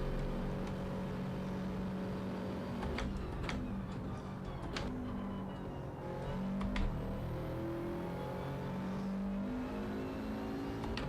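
Subaru WRX with an old-school livery racing in Gran Turismo 7, a steady engine drone with shifting pitch, heard under a continuous clicking tick.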